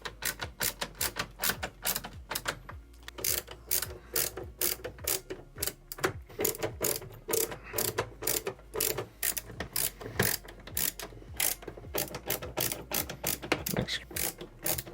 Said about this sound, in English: Go ahead and put this screw in.